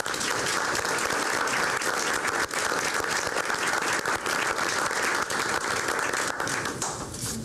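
A school board meeting audience gives a sustained round of applause, dense steady clapping filling the room for the whole stretch at an even level with no talk over it.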